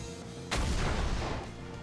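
A Pokémon self-destruct explosion in the Omega Ruby video game hits suddenly as one loud, booming blast, then rumbles and fades over about a second, with no talk.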